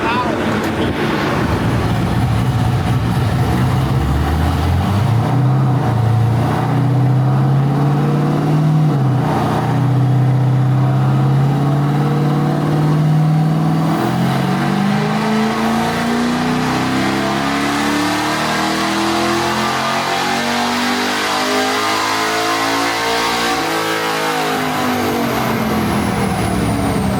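A drag-racing bracket car's engine runs on a dyno, loud and close, holding a steady rumble before climbing through a long rising rev that swells to a sustained roar. A voice speaks faintly underneath.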